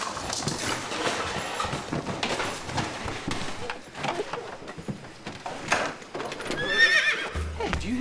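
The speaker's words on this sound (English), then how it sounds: "A horse!" A horse neighs and whinnies loudly, with clip-clopping hooves nearby and a few other background noises in a lively cartoon-like scene.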